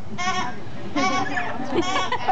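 Sheep bleat in a few separate wavering cries over about two seconds, close and fairly loud, with no talking.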